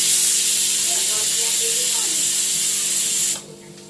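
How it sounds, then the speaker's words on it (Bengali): Oil hitting a hot wok (kadai) gives a steady, loud broadband hiss and sizzle, with faint talk underneath, before the sound cuts off abruptly near the end. "কড়াই তেল দিয়ে দিলাম"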